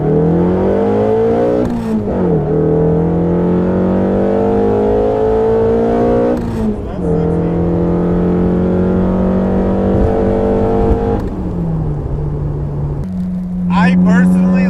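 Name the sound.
SR20-engined roadster revving and accelerating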